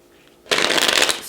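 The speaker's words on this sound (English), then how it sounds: "Cutting the deck, and here we go." Golden Universal Tarot cards being handled and cut, a quiet start followed by a close, crisp burst of riffling and sliding card noise lasting under a second.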